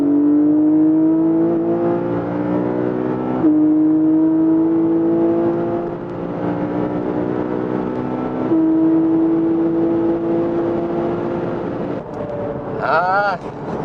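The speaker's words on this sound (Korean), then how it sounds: "6기통 박스 엔진의 소리 한번 들어보시죠" A Porsche 718 Boxster GTS 4.0 with a six-cylinder boxer engine accelerates hard, its rising drone climbing through gears with brief dips at each shift, loud and sustained from inside the car.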